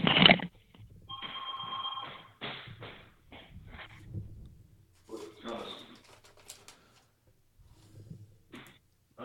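A telephone rings in short electronic bursts near the start, then people talk around it indoors over quiet gaps.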